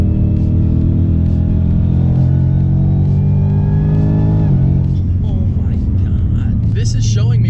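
A 700-horsepower 2018 Ford Mustang S550 with a 10-speed revs high, its loud engine note climbing steadily in pitch before dropping off, with a person talking over it.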